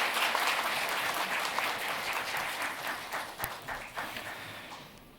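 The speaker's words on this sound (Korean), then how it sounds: "크게 박수해 주시면 감사하겠습니다." Congregation applauding inside a Korean church during a pastoral ordination ceremony, steady dense clapping from a large crowd that gradually fades toward the end.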